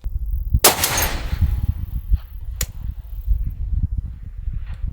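Suppressed Barrett M107 rifle fired at a 1,000-yard target: one loud sharp shot early with a long rolling tail, then a second crack, followed by fainter distant pops and handling noises.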